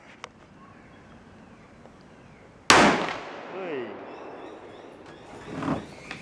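One sharp, loud rifle shot from a short-barrelled Tikka .223 during sighting-in for fox hunting outdoors, followed by a fading rumble and faint voices.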